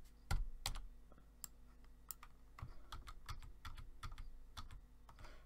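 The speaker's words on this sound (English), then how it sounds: "We're going to press Control C, click on to here, press Control C" Keys clicked on a computer keyboard during a copy shortcut in image-editing software, a scattered series of sharp, close taps with short pauses, no voices.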